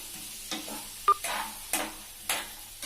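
Half a kilo of potatoes fry in a pan on a low flame, a quiet sizzle broken by four distinct scraping stirs of a spatula and one sharp metallic clink.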